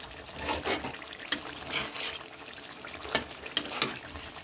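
Soft bhetki fish curry being turned slowly with a spatula in a pan, gentle scrapes and wet squelches recurring at intervals over a quiet sizzle.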